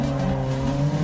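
A brief, loud burst from the Assetto Corsa driving game has a race car's engine holding a steady high tone while the tires squeal through a drift.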